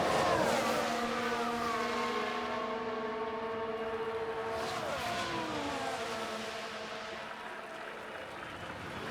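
Formula 1 cars from the F1 Manager 2024 racing game scream past in a close overtaking battle, several high engine notes sliding up and down in pitch across the whole stretch, loud and continuous with no talking.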